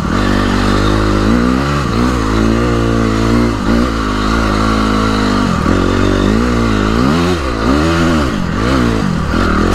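A dirt bike ridden hard on trails, its engine revving up and down in repeated surges with rising and falling pitch, loud and close throughout.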